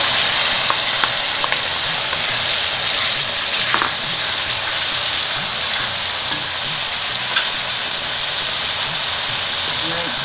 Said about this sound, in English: my onions have been frying for the last 3 minutes, and they're nice and soft